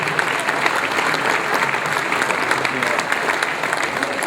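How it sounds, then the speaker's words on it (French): Audience applauding at a New Year's greetings ceremony, a full, close burst of many hands clapping that continues steadily, with faint crowd murmur mixed in. "Oui, on peut les applaudir."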